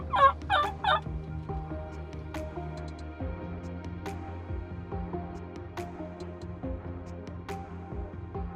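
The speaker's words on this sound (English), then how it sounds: "we could hear him gobbling, strutting back and forth" A wild turkey gobbles in three quick rattling bursts near the start, followed by faint outdoor ambience with a low steady hum.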